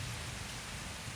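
Steady rain falling outdoors in a rural farm setting, a dense even hiss of drops with no letup and no voices.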